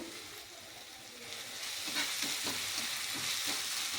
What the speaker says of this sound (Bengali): পেঁয়াজ আর টমেটো ভালো করে ভাজাও হবে আর নরমও হবে